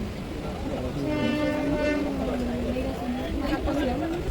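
A train at Puri railway station, with a steady rumble, a sustained tonal horn-like whine and crowd chatter, loud and continuous throughout, with people talking under it.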